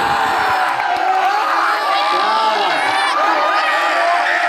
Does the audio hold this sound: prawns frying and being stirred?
no